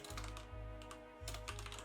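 Close, fast typing on a computer keyboard, a quick run of clicky keystrokes in two short bursts over a low steady electrical hum.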